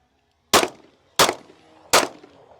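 Three loud rifle shots, each a sharp crack with a short decaying tail, evenly spaced about two-thirds of a second apart, fired outdoors at a model airplane.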